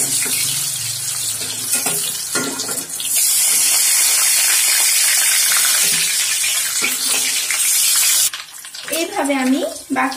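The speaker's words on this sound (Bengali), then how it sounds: "এইভাবে আমি বাকি পটলগুলো ভেজে নিচ্ছি।" Pointed gourds (potol) fry in a pan with a loud, continuous sizzle, spitting and hissing up close, easing off briefly near the end.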